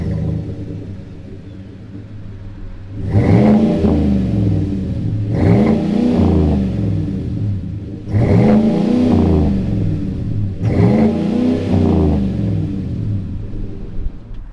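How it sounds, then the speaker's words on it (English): A 2019 Chevy Silverado Badlander pickup engine idles low, then revs hard four times in evenly spaced bursts, loud and close. "fire it up, and see what this Badlander sounds like"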